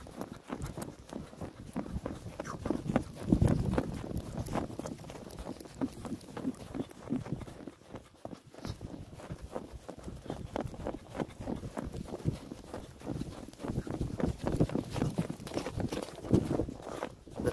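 A young English thoroughbred horse is ridden at a walk through a village, its hooves beating a steady, fairly quiet clip-clop, close to the rider, with some rustle and creak mixed in and no talking.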